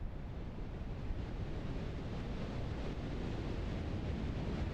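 Strong wind howls over a mountainside in the video game PEAK, a constant low rushing roar that stays even throughout, with no talking.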